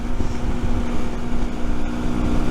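A Rieju Century 125 motorcycle being ridden on the road, with a loud, steady engine drone mixed with heavy rushing wind noise on the microphone.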